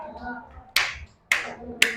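A classroom clapping game with schoolchildren, three sharp hand claps in unison spaced about half a second apart, with a teacher's voice faintly in between.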